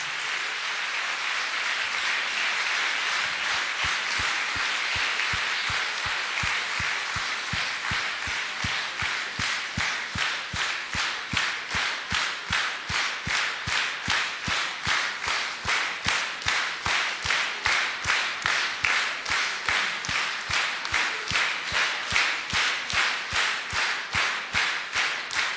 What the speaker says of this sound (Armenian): իմ թանկ ուսուցչին Թովմաս Պողոսյանին ծափահարենք